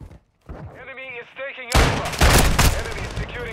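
Akimbo revolvers firing in Call of Duty MW2, a burst of loud, close shots starting partway through after a voice speaks, then rapid repeated blasts with a ringing tail.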